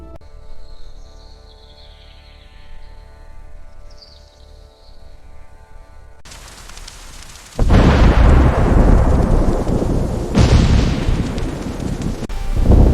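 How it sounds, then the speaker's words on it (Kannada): A heavy downpour on farmland, opening with a deep rumble of thunder, then a steady loud roar of rain with a sharp thunder crack partway through and continuing rolling booms, close and with no speech. "ಒಂದು ದಿನ ಜೋರಾಗಿ ಮಳೆ ಸುರಿಯಿತು"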